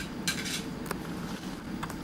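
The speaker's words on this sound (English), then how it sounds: "you can get your Petri dishes and open them up" Plastic Petri dishes are opened and handled in a Stanford science lab, giving faint, light clicks and clatters against a steady background hum.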